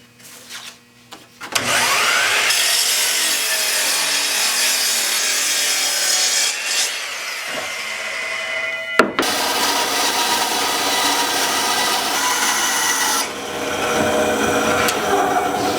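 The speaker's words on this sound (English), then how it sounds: "And I'm going to use a bandsaw," A bandsaw cuts wood panels for a bird house, a loud close steady whine and rasp that runs through each cut, with a short pause between two long passes.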